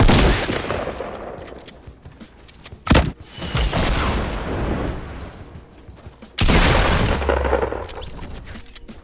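Gunfire in Fortnite Battle Royale, loud continuous bursts of automatic shots with two sharp heavy blasts standing out, dense and close throughout.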